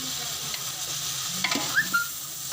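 Boiled sela rice being stir-fried in a pot, with a continuous low sizzle and occasional scrapes and light clinks of a spoon against the metal, close and steady with no talking.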